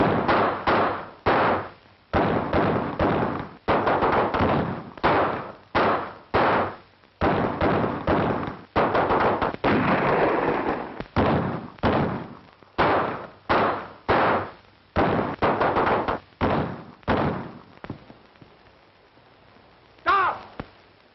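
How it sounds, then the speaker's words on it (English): Rapid gunfire erupts in a shootout from a 1936 western, with loud, sharp shots repeating in quick irregular bursts and brief gaps between them. "Stop firing!"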